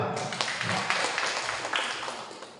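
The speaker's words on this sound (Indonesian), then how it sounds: "Tepuk tangan dulu untuk Mila." A classroom of students claps for a girl named Mila, with dense, crackly applause that swells and fades over a few seconds, close by and fairly loud.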